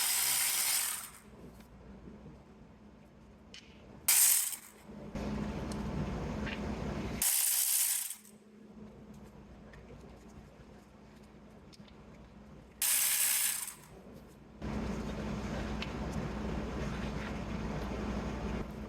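Hand ratchet loosening 10mm valve cover bolts on a 2008 Infiniti FX35 engine, with several close bursts of rapid clicking separated by quieter pauses and abrupt, loud handling bumps.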